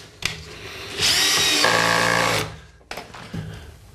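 A Bosch power drill drives screws into the wooden frame of a chicken coop: a short burst, then a sustained loud whirring run that bogs down as the screw seats, followed by brief handling clatter.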